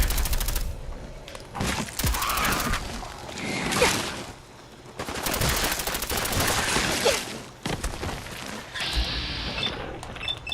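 Dense gunfire and grenade explosions from the Fallout video game, with rapid bursts, heavy blasts and whooshes layered continuously and loudly, with a brief lull midway.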